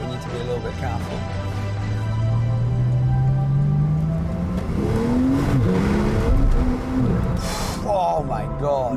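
A Porsche in Sport Plus mode accelerating hard, engine pitch sweeping upward through a gear, then a shift and further rising revs, heard from inside with a person talking over it.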